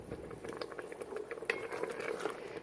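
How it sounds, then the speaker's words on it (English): Cranberry sauce bubbling in an Instant Pot on saute mode, soft close popping and burbling with small clicks, faint and continuous with no talk. "See how it's starting to bubble? So we'll let it all bubble up."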